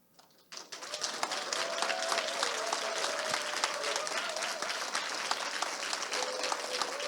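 An audience at a lecture event breaks into steady applause with some cheering, starting abruptly after a moment of quiet and holding at an even, moderate level to the end.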